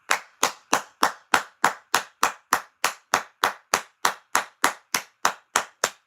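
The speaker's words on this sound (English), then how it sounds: "Clap it out" Steady, evenly spaced claps, about nineteen in six seconds, loud and close in a crisp unison rhythm, like an audience clapping together on the beat with no talk over it.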